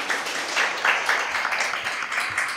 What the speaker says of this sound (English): Round of applause for all the persons involved today.